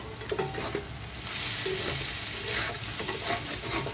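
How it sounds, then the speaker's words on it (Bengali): Potatoes frying in very little oil with salt, turmeric, coriander-cumin paste, tomato and a little onion, stirred in a pan: a continuous close sizzle with repeated scraping strokes of the spoon, no voices. "আলুটা একটু ভেজে নিয়েছি প্রথমে তারপর তার মধ্যে একটু লবণ দিয়েছি একটু হলুদ দিয়েছি"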